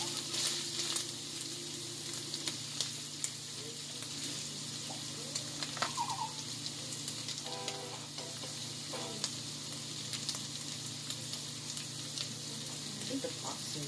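Pasta is stirred in a sizzling pan, a soft, steady frying hiss with occasional faint scrapes, quiet and close, with no talking.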